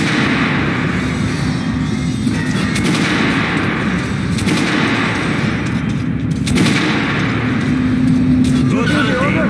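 Rapid gunfire from a firearm in Metro Last Light Redux, dense bursts of shots rattling close and loud throughout, with someone talking over the shooting.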